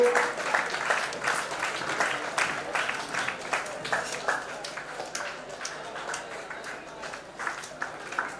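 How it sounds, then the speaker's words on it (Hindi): A crowd claps continuously at a medal award ceremony honouring volunteer workers, a dense, even roll of applause lasting over eight seconds at moderate loudness, with pulses of slightly stronger clapping and no speech heard. "एक बार जोरदार ताली से आप लोगों का स्वागत कीजिए।"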